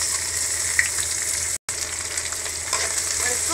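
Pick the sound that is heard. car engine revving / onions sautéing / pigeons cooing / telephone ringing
onions sautéing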